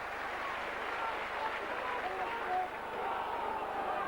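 A rugby league crowd at St Helens v Castleford roars and applauds in a broad, distant wash of cheering, with a commentator talking over it throughout.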